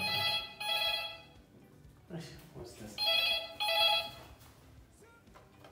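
A phone rings in a hotel bathroom in Kenya in two loud double rings, one right after the other, with a pause between them. People talk in the gap.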